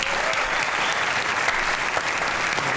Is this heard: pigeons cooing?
no